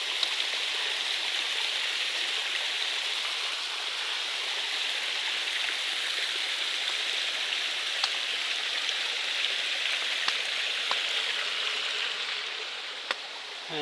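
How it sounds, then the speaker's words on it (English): Small waterfall pouring into a bathing pool on a mountain trail, a steady broadband rush of falling water that stays even throughout, with a few faint clicks. "And here's another little waterfall into a bathing pool."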